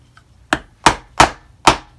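A small leather chisel tool is hammered through leather for a beaver-tail bi-fold wallet, producing four sharp, close wooden-sounding knocks in a steady rhythm, with a faint tap before them.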